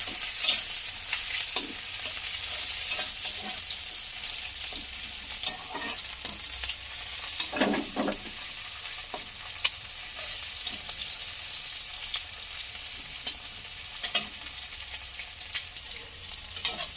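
Chopped onion and slit green chillies fry in oil in a pan with a steady, dense sizzle throughout, broken by a few brief stirring scrapes, close and moderately loud, with no voices.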